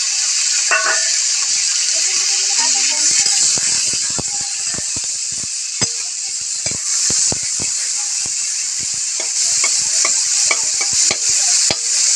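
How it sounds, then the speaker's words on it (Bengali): Potatoes frying in a pan for a sweet-and-sour dish, a loud continuous sizzle and hiss with frequent scraping and clinking as they are stirred, close by. "এখন করবো আলুটা এখন ভেজে নিব লাল লাল করে"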